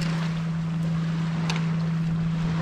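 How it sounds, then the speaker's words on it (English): A passing boat's engine drones steadily nearby on the Suwannee River with a constant low hum, over a hiss of wind and water. "As the boat was coming"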